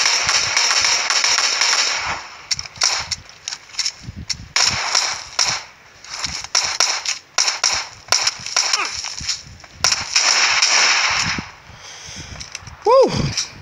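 Gunfire in the mobile shooter PUBG Mobile, loud bursts of rapid sharp shots in clustered volleys with brief pauses between them, close and harsh, a voice speaking over the action.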